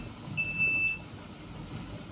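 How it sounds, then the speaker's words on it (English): A single short electronic beep from a kitchen timer rings out, thin and steady for about half a second, over a faint background hum. "All right, my timer is just about to go off"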